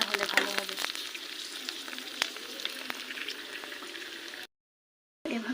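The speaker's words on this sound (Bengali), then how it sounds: "অল্প অল্প করে ভেজে নেব, যাতে বুঝতে পারেন যে ফুচকাটা ভালোভাবে ভাজা হচ্ছে কিনা" Fuchka puri shells deep-frying in oil, a close bubbling sizzle with a few sharper crackles. It runs steadily and then cuts out abruptly before resuming briefly.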